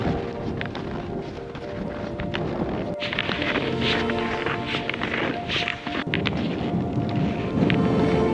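Gusty winter wind roars steadily across the microphone on the high ridge of Quandary Peak, a Colorado fourteener, swelling and easing in gusts with faint crunching steps underneath.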